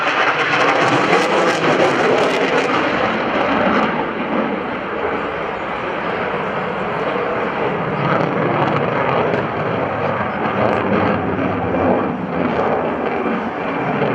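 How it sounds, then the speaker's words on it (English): A US Navy F/A-18F Super Hornet from VFA-106 roars loud and continuous through a square loop at the NAS Oceana airshow, its broad jet rumble holding steady across the whole clip. "the FA-18 Super Hornet to perform the square loop"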